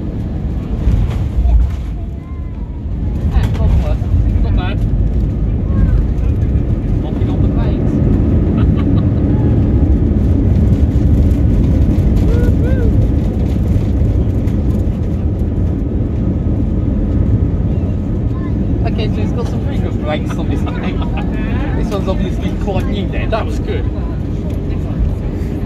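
A fixed-wing airliner lands on the Gibraltar runway, with a steady loud roar of engine and wind noise throughout and people talking faintly underneath.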